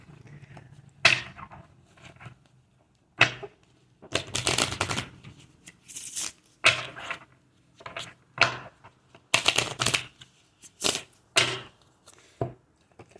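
Tarot cards riffled and shuffled in repeated bursts, crisp papery flutters and snaps close by, with short pauses between rounds and no voices.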